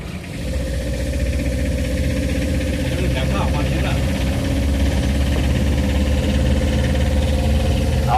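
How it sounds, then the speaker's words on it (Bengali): A car engine hums steadily throughout while the vehicle is driven, a loud continuous drone with a low rumble and slight vibration and no clear voices. "আমাদের ড্রাইভার দা গাড়ি চালাচ্ছে"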